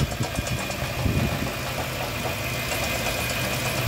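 A 2002 Toyota Sequoia engine idles with a steady, close mechanical hum and faint rhythmic ticking, holding even the whole time with no voices.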